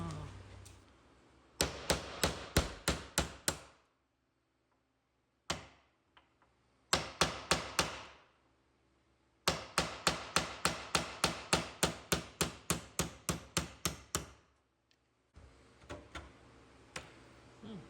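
A hammer strikes a punch to drive out hinge pins, landing in fast regular runs of sharp metallic blows separated by pauses, loud and close.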